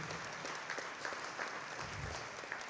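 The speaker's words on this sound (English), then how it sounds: "Please give them a round of applause because they are trailblazing" Applause from an audience at a graduation-style ceremony in the Bahamas, with steady dense clapping held at an even level, somewhat distant, throughout.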